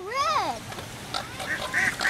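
A duck quacks at a park pond where birds gather, a single rising and falling call near the start, followed by fainter chirps from other birds while people talk nearby.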